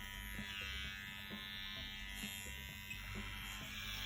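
An electric motor in a machine runs on a power supply, a continuous close buzzing hum with a faint regular pulsing throughout and no talking.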